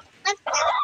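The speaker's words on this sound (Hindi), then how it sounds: "देखिए मेरी मुर्गी भी बहुत होशियार है दोस्तों, खिलौना से खेलती है" A hen plays with a balloon on a village poultry farm, letting out a short throaty cluck and then a longer, louder squawking call, close up with no talking.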